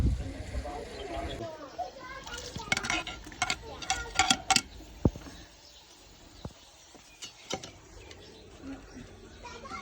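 Onions frying in ghee are stirred in a pot in a village kitchen, with a burst of scraping and clattering strokes followed by quieter sizzling and occasional clinks, while a voice talks in the background.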